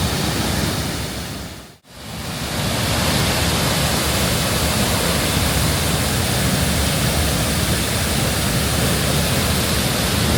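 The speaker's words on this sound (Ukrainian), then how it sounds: "вода паде без перестанку" A loud, constant roar of High Force waterfall in the North Pennines, broad and unbroken, with a brief dip near the start before the rush resumes.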